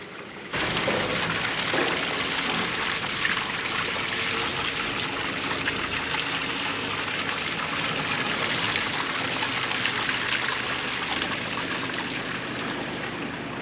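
Water flows out from the base of a tree in a Greek mountain village square, heard as a close, steady gurgling trickle and splash that keeps going unbroken throughout.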